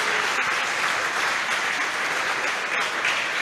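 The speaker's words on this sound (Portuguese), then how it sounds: "dê a sua melhor salva de palmas à palavra do Senhor" A church congregation claps together in sustained, fairly loud applause, an even wash of hands that holds steady throughout.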